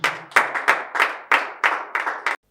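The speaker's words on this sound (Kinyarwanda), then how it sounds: "Amashyi menshi." Rhythmic group clapping at a church gathering, about nine crisp, evenly spaced bursts of many hands clapping together, close and fairly loud, then stopping abruptly.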